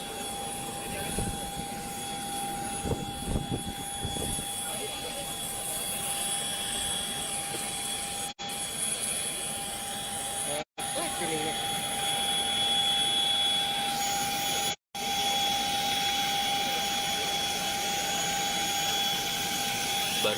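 A police aircraft's engine drones steadily as a patient is carried aboard for transfer, a loud continuous roar with a high whine, while a voice talks over it.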